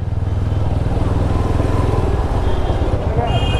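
A motorbike rides through busy market traffic, its engine a loud close steady putter dominating throughout, with someone talking over it.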